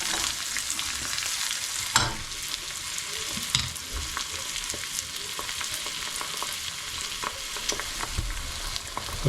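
Eggs fry in a pan with kimchi, a steady close sizzle and crackle running the whole time, with a few sharper pops and spatters along the way.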